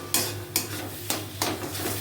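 Cumin paste frying in a pan sizzles steadily while a spatula stirs and scrapes in four or five brisk strokes, close and alone without talk.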